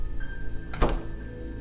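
One dull, heavy door thud lands at once in an otherwise quiet room, a single short impact that fades quickly.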